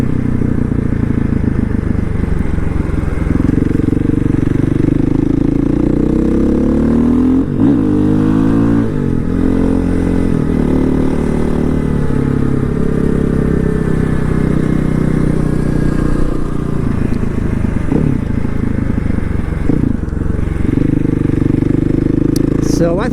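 A KTM 500 motorcycle rides on the street with a loud, close engine drone that rises and falls through gear changes and revs, heard steadily throughout.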